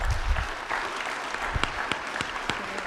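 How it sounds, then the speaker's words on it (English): Audience applause at a morning business meetup in Kansas City, a fairly brief burst of clapping with scattered individual claps tapering off, moderately loud in a room. "Another round of applause for Connor Hazelwood"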